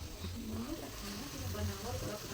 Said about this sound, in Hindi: अभी तो पक रहा है, प्याज है, कड़ी पत्ता है, मेथी दाना वो डालू।